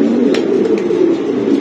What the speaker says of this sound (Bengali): আবার উড়ালো তো দেখ, সেই কবুতর।